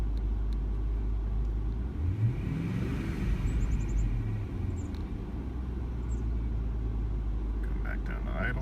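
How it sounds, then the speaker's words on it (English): A 1997 Audi A8 D2 with a 4.2 V8 runs steadily with a deep, close engine rumble, briefly rising in a rev around the middle before settling back, with a voice speaking over it. "I was going to stop anyway and listen to the engine"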